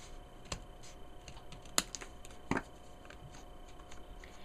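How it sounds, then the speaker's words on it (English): Scissors cutting the side of a sheet of paper for a handmade ribbon notebook, heard as a few sharp, quiet snips spaced apart against a faint, steady room background. "I'm going to cut up the side here"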